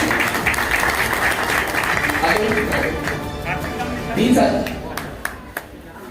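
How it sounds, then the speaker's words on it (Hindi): A crowd at a Hindi-speaking gathering claps loudly to cheer on colleagues, sustained applause that gradually thins and fades, with voices and scattered sounds surfacing toward the end. "एक बार जोरदार ताली से इन साथियों का मनोबल बढ़ाइए।"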